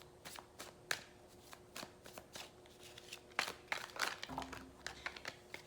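A deck of tarot cards being shuffled by hand, with soft riffling and slapping card sounds coming in uneven bursts, close but quiet, and a faint hum underneath.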